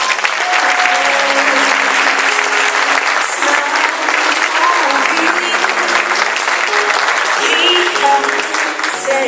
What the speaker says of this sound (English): she is so worthy of a round of applause